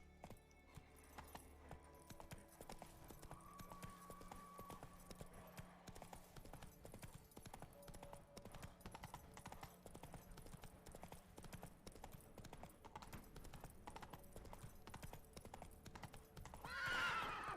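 Roach, a horse in The Witcher 3 video game, gallops with steady clip-clop hoofbeats and a whinny, set against game music and ambient sound, with a sharper burst near the end.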